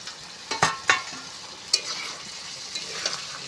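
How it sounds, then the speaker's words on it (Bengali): Fish curry sizzling in a pan as it is stirred and fried, with a few sharp scraping strokes of a spatula over a steady, close crackle. "ভালো করে কষিয়ে নেব।"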